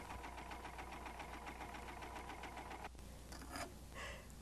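A Baby Lock Eclipse serger overlock machine runs steadily with a fast, even mechanical chatter and hum, then stops abruptly, followed by a few brief handling clicks and rustles close by.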